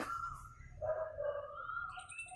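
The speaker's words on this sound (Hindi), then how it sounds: "और ये सुनाई दे रही है आपको कुहू कुहू की आवाज़।" An Asian koel calls in repeated tonal kuhu phrases against a steady low background hum under a cloudy morning sky, fairly clear but not very close.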